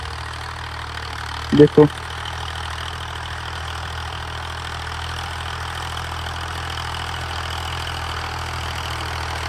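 A 1989 Massey Ferguson MF 240 tractor engine idles in a steady low diesel chug throughout, with someone speaking one brief word over it early on.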